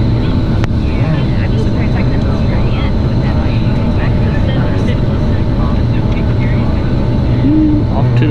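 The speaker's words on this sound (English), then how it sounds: "That little jet looks like a private plane right there." An American Airlines jet flies overhead as a steady, loud engine rumble that persists throughout, while people talk nearby over the noise.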